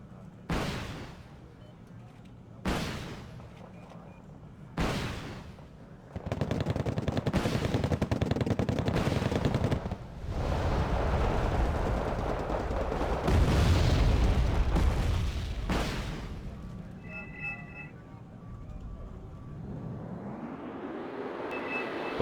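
Aerial combat from an F-15C in Wargame: Red Dragon: three sharp booming shots spaced apart, then a long dense stretch of rapid gunfire and explosions, ending with a rising jet whoosh, loud and close with no talk.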